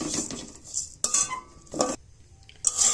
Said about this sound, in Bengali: তো এই চালগুলো কিন্তু একভাবেই নাড়তে হবে, নাড়া বন্ধ করে দিলে তাহলে তলায় লেগে যাবে।